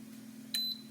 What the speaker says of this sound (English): You hear it beep and we know it's going.